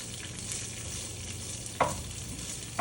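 Green chilies frying in oil over a high flame, a steady sizzle with two sharp scraping clacks as they are stirred in the pan.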